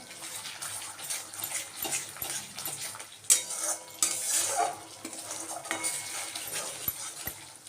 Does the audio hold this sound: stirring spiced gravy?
yes